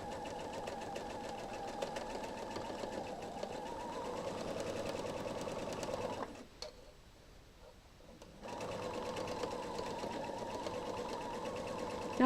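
A sewing machine stitches the seams of a quilt block in a steady, continuous mechanical whir, pausing for about two seconds midway before running on again, close and clear with no talking.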